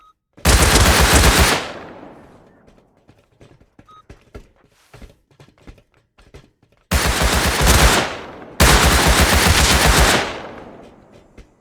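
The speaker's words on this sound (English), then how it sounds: "we heard a bunch of gunshots over by water treatment" Gunfire in the video game Rust: three long bursts of rapid automatic fire, loud and close, separated by quieter gaps with scattered faint clicks and distant shots.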